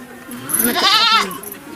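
A goat bleats once in a wavering, nasal cry lasting about a second, heard close and clear against a quiet rural background on a village goat-rearing farm.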